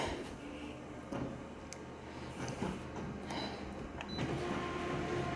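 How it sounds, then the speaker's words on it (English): A photocopier copies comic book pages with a steady mechanical whir and rumble, marked by occasional sharp clicks and brief whines as the machine works. "I like to photocopy this shit"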